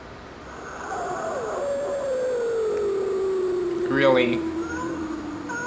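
Wartime recording of eerie, ghostly wails meant to mimic dead wandering Vietnamese soldiers, a long sliding howl-like tone drifting downward over a few seconds, with a brief voice reacting briefly near the end.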